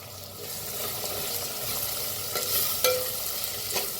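Onion and tomato fry in a clay pot with a steady close crackle and hiss, broken by occasional scraping stirs and a light tap of a spoon.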